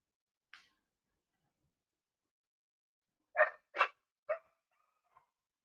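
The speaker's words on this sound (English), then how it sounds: "my dogs is out there going ham right now" Dogs bark outside, a short far-off yelp followed by a quick cluster of three sharp barks, with near silence around them.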